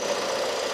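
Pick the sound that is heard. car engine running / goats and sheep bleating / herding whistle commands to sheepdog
car engine running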